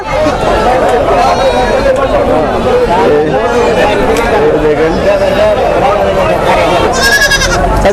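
Goats bleat again and again at a busy livestock market, loud and close, over a steady din of crowd chatter and people talking nearby.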